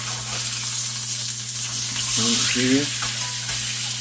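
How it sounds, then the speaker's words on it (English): A ribeye steak sizzles steadily in a hot pan, a continuous bright hiss swelling briefly as the meat is turned, with a low steady hum underneath and a few faint clinks. "All right, my steak's ready to be turned here."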